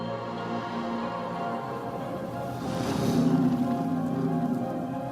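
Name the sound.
timefall rain falling in a video game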